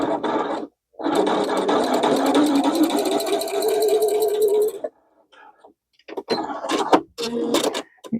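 A sewing machine making an odd noise while stitching, a loud mechanical whirring rattle that runs for several seconds, stops, then starts again in short bursts, with no talk.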